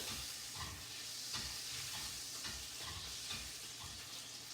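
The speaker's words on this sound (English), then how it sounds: "we got some butter sizzling over here" Butter sizzles and crackles steadily in a hot frying pan, with occasional stirring scrapes and no voices.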